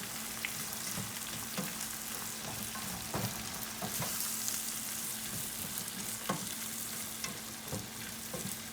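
Potatoes fry over medium-high heat in a pan with bacon fat, a steady close sizzle and crackle broken by scattered scraping knocks as they are stirred.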